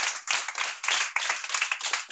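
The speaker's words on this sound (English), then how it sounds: "Clap for yourself." A classroom of students in Liberia claps together in quick, uneven bursts, loud and close, for about two seconds with no talking.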